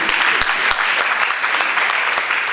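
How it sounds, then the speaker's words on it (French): A crowd at a civil wedding ceremony bursts into steady, dense applause, loud and close, with many hands clapping at once and no talk over it. "Ah, on applaudit."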